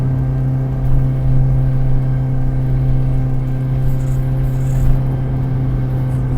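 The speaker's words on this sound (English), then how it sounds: "Third gear, and we're still lacking of power." A Proton Saga's engine pulls in third gear, a steady, low droning hum with a faint whir, fairly even throughout and only swelling slightly, heard from inside the car with no talking.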